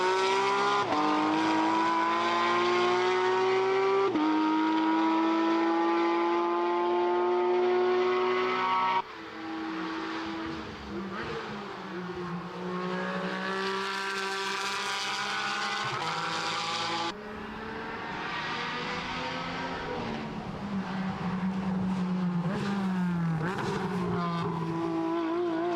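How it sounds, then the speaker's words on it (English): Porsche race cars at full speed on the Imola circuit during Porsche Sports Cup Suisse qualifying, with loud, high engine whines that rise and fall through gear changes and pass-bys in long, continuous runs. "we only have 2 cars on track now"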